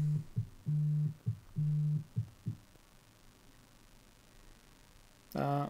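Phone ringtone or call alert made of repeated steady tones in an on-off pattern, a few long beeps and short pulses, then quiet before another tone burst at the end, heard during a podcast recording.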